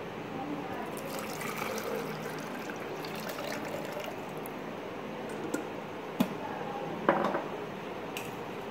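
Milk, two cups of it, is poured into a blender jug for a summer energy drink. It makes a steady liquid fill sound throughout, with a few faint clinks of kitchenware near the end.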